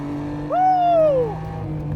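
A Nissan Skyline R34 GT-R engine revs high toward 8,000 RPM, sweeping up and falling away over a steady low drone, heard from inside the car.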